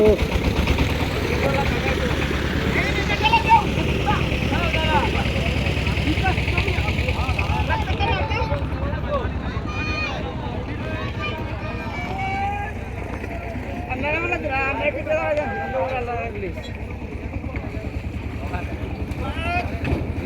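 A stuck wooden boat with its engine running steadily while people push it free, the low motor drone continuing throughout under overlapping shouts and voices of the crew.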